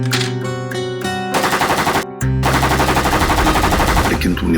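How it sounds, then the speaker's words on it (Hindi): AK-47 assault rifle firing in a TV crime drama scene, loud rapid automatic bursts with a short pause, then a longer sustained burst, close and dominant. "इस AK-47 की आवाज से कोई ना कोई आएगा।"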